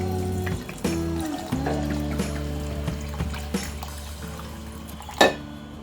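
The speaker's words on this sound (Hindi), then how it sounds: "इसमें पानी डालकर हम इसे 20 मिनट तक सोक करने के लिए रख देंगे।" Water is poured over washed basmati rice in a vessel, giving a close, continuous trickling pour for several seconds that ends in a brief louder splash.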